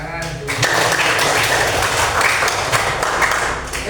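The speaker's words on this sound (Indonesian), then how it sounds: "Oke, tepuk tangan dulu." A seminar audience claps together in a room, a burst of fairly loud, close applause that starts after a short moment and continues steadily, with some voices mixed in.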